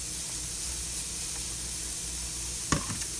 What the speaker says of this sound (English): We're going to saute for about 1 to 2 minutes, just until it's softened.